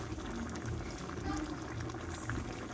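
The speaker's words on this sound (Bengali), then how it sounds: "দেখো ঝোলটা কিন্তু ফুটে গেছে" Soybean curry gravy with green tomato bubbling at a steady boil in a pot, a low dense burble of popping bubbles throughout, faint and even, with no talk.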